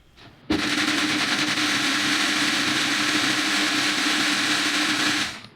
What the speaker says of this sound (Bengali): এখন এগুলো উঠিয়ে আমরা একটা ব্লেন্ডারের জারের মধ্যে নিয়ে নিব এগুলোকে আমরা খুবই ভালোভাবে ব্লেন্ড করে নিব